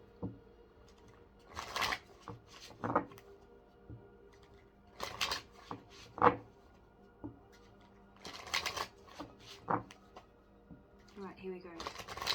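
A tarot card deck being shuffled in several separate bursts of crisp riffling and flicking, close and fairly quiet, with soft pauses between rounds and a few light taps of cards.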